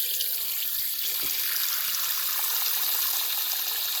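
Tap water runs steadily into a clogged kitchen sink, a continuous close hiss and splash with no voices.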